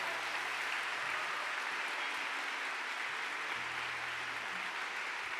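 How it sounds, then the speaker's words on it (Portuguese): Faint, steady applause from a church congregation clapping for Jesus at a Catholic service, a distant, even wash of sound with a low hum running underneath. "dê uma forte salva de palmas a Jesus."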